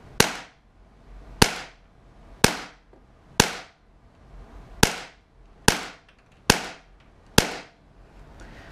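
Eight sharp shots from a Tiberius T8.1 paintball gun running on HPA, each a loud crack followed by a short ringing decay, fired at a steady rhythm about one per second outdoors.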